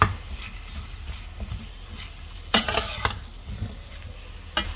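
Onions sautéing in a pan for chana masala, a soft continuous sizzle with scattered stirring scrapes and one sharper clatter of the spoon partway through, close and fairly quiet.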